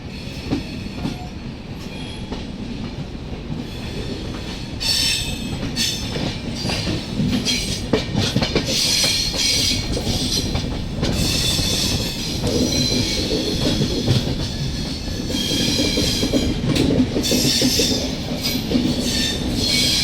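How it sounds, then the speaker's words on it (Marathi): The 12171 Mumbai LTT–Haridwar AC superfast express running after departing Roorkee station: a continuous loud rumble of wheels on rails with rhythmic clattering and occasional squeals, heard from on board. "11:30 रुडकी रेल्वे स्टेशनवरून ट्रेन डिपार्ट झालेली आहे"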